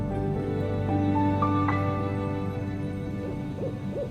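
Snowy owl on the Greenland tundra giving soft, low hoots against a steady windy background, with a few brief higher calls in the middle and no voices.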